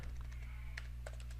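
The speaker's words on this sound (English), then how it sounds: "Just go to google.com and type in what is" Quiet typing on a computer keyboard while entering a Google search, a short burst of soft, irregular key clicks over a low steady hum.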